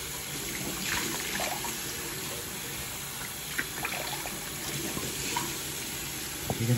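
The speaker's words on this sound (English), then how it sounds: "because the sinks are on" A bathroom sink tap runs steadily in a Las Vegas hotel room, a continuous close hiss of flowing water with faint splashes and small knocks over it.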